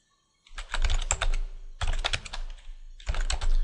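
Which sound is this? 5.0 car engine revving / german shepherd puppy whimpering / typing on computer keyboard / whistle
typing on computer keyboard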